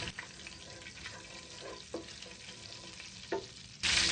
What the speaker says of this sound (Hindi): जीरे को हम हल्का सा रोस्ट करेंगे।